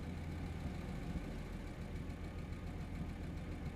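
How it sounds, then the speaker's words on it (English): A truck engine idles in the SnowRunner video game, a steady low rumble that holds at an even level without a break, with no voices over it. "How loud's the truck coming through?"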